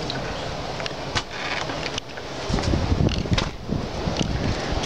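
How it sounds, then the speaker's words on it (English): Strong windstorm gusts buffet the outside of a tiny house in Ontario, a loud, close, continuous roar of wind with rumbling microphone buffeting that surges and eases, with no voices. "There's quite a windstorm going on outside."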